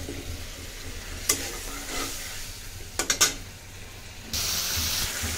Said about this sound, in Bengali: মশলা দেখুন কি সুন্দর কষা ফেললাম